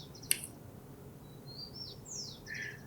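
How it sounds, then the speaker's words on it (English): Typical birdsong recorded in a neighborhood: a sharp click near the start, then a series of high, thin whistled notes and sweeping chirps at moderate, steady loudness over a low background hum. "So this is a typical song, okay, of one of these birds."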